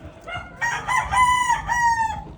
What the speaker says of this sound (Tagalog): Papakain ng mga chicken.